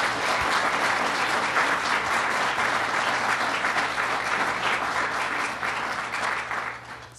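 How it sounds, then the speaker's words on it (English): A crowd applauds at a public funding announcement in Niagara and Orleans Counties, sustained even clapping from many hands over a low hum, slowly thinning out toward the end. "Let's give him a big round of applause"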